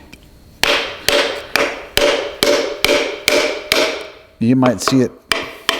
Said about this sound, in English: so let's see if we can knock it out.